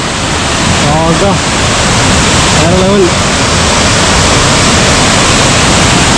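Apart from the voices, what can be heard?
roadside waterfall pouring, Coonoor to Mettupalayam road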